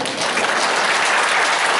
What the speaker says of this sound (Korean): 큰 박수로 우리 한번.